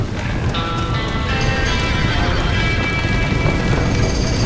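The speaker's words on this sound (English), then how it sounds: "Somebody get them horses out!" Horses whinnying in a burning barn in the video game Red Dead Redemption, loud neighs over a dense roar of fire and commotion.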